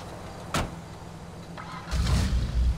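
A short electronic whoosh rises, followed a second later by a low rumbling swell, like a synthetic car-entry effect, on entering a 1970 Camaro Z28 in GTA Online.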